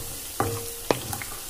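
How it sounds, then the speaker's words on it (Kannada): Seasoning for paper avalakki chivda frying in a pan over a low flame, a soft sizzle broken by two sharp clinks of a spoon against the pan, close and alone. "ಇದನ್ನ ಗ್ಯಾಸ್ ಲೋ ಫ್ಲೇಮ್ ಮಾಡ್ಕೊಂಡೇ ಫ್ರೈ ಮಾಡಬೇಕು"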